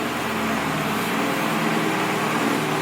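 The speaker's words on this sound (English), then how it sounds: "I just started the car. Let it idle real quick." A turbocharged Honda Civic engine idles steadily up close, a dense even rumble with a broad hiss over it and no one talking.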